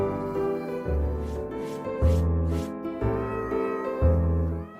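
Cat meows from a video game trailer for a Nintendogs-style cat game, sounding over steady music with a thumping beat that recurs about once a second.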